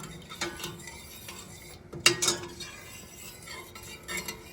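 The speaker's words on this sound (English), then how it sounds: "And you got to stir it quite often." A spoon stirs a simmering sauce in a pot on a stove, with soft scraping and a brief clink of metal against the pot partway through, quiet and close.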